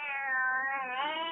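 A house cat meows at feeding time, one drawn-out, fairly close meow that rises slightly at the end.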